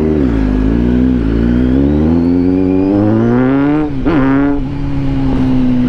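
A Kawasaki Z900 motorcycle with a titanium Easy Project exhaust revs loudly nearby, its engine rising and falling in pitch through several throttle blips before a sharper rev and a steady high idle, with no talk.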